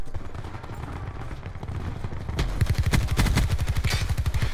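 A Peacekeeper gun fires in a video game, first as muffled distant rattling, then a close, loud rapid automatic stream of evenly spaced shots in the second half.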